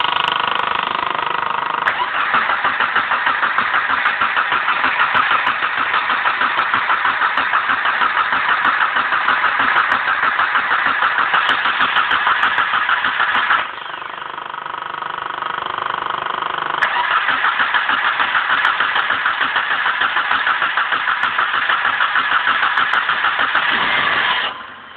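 A Suzuki Samurai with a newly installed engine is cranked and starts, then idles with a steady, slightly knocking rumble, dipping briefly midway before picking back up, close and loud.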